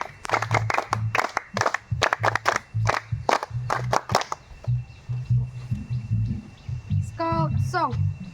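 Scouts clapping in unison on a spoken command at an outdoor village gathering, with repeated sharp bursts of group claps in a steady rhythm amid voices and chanting, followed by a short high whistle-like tone near the end.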